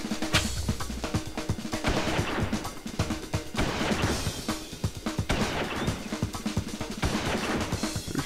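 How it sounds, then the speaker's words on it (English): Enemy gunfire rattles steadily in the shooter XIII, dense overlapping shots and impacts forming a continuous loud barrage with no pauses. "They're shooting."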